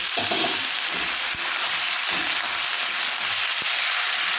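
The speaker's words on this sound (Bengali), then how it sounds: "আর এই যে দেখো, এই যেগুলো ঝিঙেগুলো দিয়ে দিচ্ছি।" Chopped ridge gourd added to fried potatoes in a pan sizzles in a constant bright hiss, broken by several soft scrapes and knocks as the mixture is stirred, with no talk.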